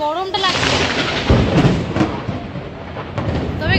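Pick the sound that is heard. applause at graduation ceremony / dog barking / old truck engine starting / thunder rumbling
thunder rumbling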